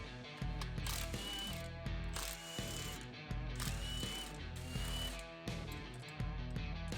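A ratchet wrench removing engine timing cover bolts during a camshaft install, close rhythmic clicking in repeated strokes with brief pauses between, steady and clear with no talk.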